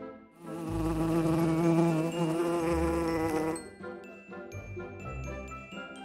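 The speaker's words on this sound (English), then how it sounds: "The sound of bees," A steady, loud buzzing hum like bees, with a droning tone, followed by quieter tinkling chimes.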